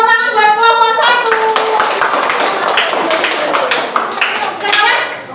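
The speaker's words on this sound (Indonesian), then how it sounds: "Tepuk tangan buat kelompok 1." A school class claps hands for a group of students after a cultural exhibition lesson, a loud burst of many small hands tapping unevenly over several seconds, with voices and a teacher's speech mixed in.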